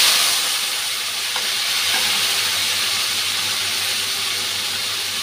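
Vegetables fry in oil with a constant, even hiss of sizzling and steam, a few faint stirring touches and a low steady hum underneath, with no voices.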